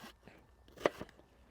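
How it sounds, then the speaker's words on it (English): Knife chopping venison and wild chicory on a cutting board, a few sharp close taps with one louder strike, over a quiet room background. "I'm chopping."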